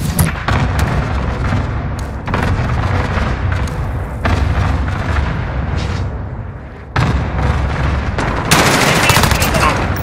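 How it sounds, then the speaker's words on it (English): Dense, loud barrage of cluster-strike explosions and rapid gunfire in Call of Duty: Modern Warfare team deathmatch on the Azhir Cave map, with heavy booms and continuous firing throughout, briefly thinning before a harsh burst at the end. "Cluster strike incoming. Take cover."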